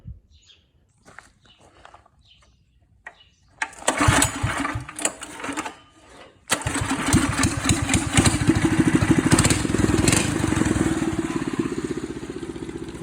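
A go kart engine fitted with a stage 1 performance kit sputters, catches, then starts again and settles into a loud, continuous buzzing run that holds steady to the end, close by.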